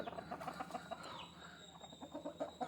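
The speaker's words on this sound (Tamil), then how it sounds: "இப்போ கோழியை மட்டும் பாருங்க ப்ரோ" Country chickens cluck at feeding time over a bran feed, giving a close, busy stream of short, soft clucks and calls.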